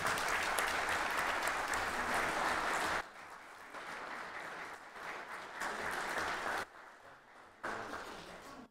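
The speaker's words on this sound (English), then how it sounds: "can you give her a round of applause?" A room of attendees at a city Board of Mayor and Aldermen meeting gives a sustained round of applause, clapping steadily and fairly loud, with brief dips in intensity before it resumes, and no speech over it.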